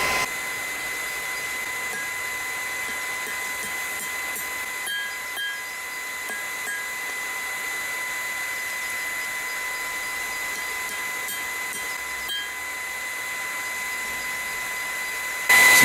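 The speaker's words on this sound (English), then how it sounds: "once the forge is warm, we'll get this in the fire and we'll get it straightened out so it's something we can work with" A steady roar from a blacksmith's forge warming up with steel in the fire, a constant broadband rush with faint tonal hum, close and unchanging throughout with a few small clanks.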